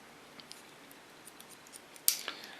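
Hairdressing scissors snip through short hair in a quiet salon: a few faint light clips, then one sharper, louder cut near the end.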